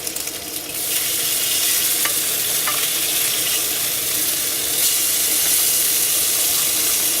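Continuous loud sizzling and crackling of food frying in a camp frying pan over a campfire, steady throughout with faint scraping, no voices.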